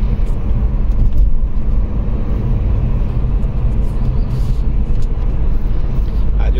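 Steady city road traffic in Batha, Riyadh, a continuous loud rumble of cars and buses passing close by, with people talking over it.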